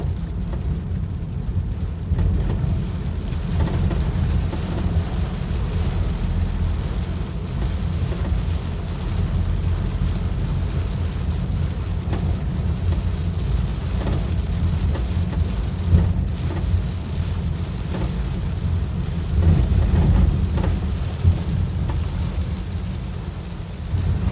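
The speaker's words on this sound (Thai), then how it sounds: "ด้านหน้าฝนตก ครับ" Rain pours steadily on a pickup truck while driving, with low, continuous rumbling of thunder underneath; a dense, even wash of noise with no voices.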